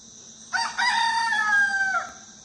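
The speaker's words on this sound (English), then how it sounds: "And there's his rooster." A rooster crows once, a clear, fairly close cock-a-doodle-doo lasting about a second and a half against a quiet outdoor background.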